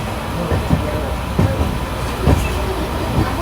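The Gomteshwara Express rolls from Yesvantpur toward Mangaluru, a loud, constant rumble of the carriage with regular clickety-clack wheel beats on the rails.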